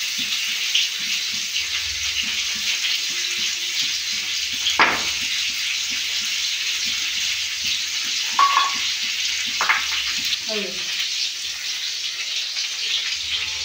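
Pointed gourd (potol) frying in hot oil in a home kitchen, a steady close sizzle throughout with a few faint clinks and scrapes over it.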